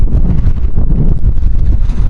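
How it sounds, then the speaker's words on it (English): Strong wind buffets an outdoor microphone right after someone steps out of a car, a continuous low rumbling roar with gusty surges filling the whole stretch, no voice above it. "Super windy right now."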